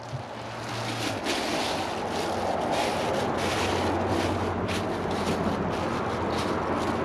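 A 2015 Kohler Cimarron toilet flushes a grocery bag in a loud, sustained rushing of water with a low hum at the start, continuing steadily without talk.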